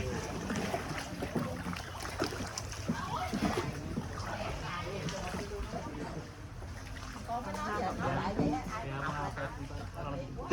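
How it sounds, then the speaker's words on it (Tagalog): Hand-paddled rowboat on a river in Vietnam: paddles splash and slosh through water in an uneven rhythm while several people talk over it the whole time. "Puro bugsay-bugsay lang, walang makina."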